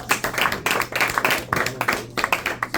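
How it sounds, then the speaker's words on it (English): Classroom applause for a student named Anthony during an AP Calculus review session, a steady burst of many hands clapping close by that fills the whole moment without talk. "Shall we give Anthony a round of applause?"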